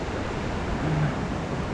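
Galleny Force waterfall in the Lake District, heard as a steady, even rush of falling water with a faint windy edge and no talk over it.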